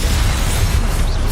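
A brief, loud Confringo spell blast in Hogwarts Legacy, heard as a dense, rumbling burst of noise that holds steady without a clear onset.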